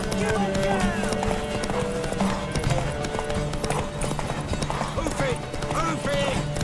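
Galloping horse in The Witcher 3, rapid rhythmic hoofbeats clattering continuously up close amid dense game sound effects, music and ambience, with occasional snorting or whinnying mixed in.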